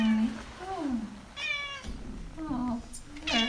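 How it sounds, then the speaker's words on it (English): A cat meows several times at an old riverside mansion, short rising and falling calls near the microphone, mixed with quiet human voices. "Cat found us all the way down here"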